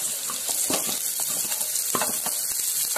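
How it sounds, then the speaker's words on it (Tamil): Green chillies sautéed in a pan for an idli kurma, with a steady hissing sizzle of frying oil throughout and a few soft stirring scrapes and clicks of a spoon. "அதையும் நம்ம நல்லா வதக்கிக்கலாம்."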